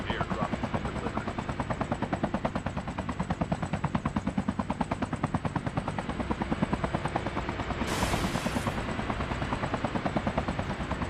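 Helicopter rotor chopping steadily throughout a battle royale video game match, loud and continuous, with rapid gunfire-like bursts mixed in and a brief hiss near the end.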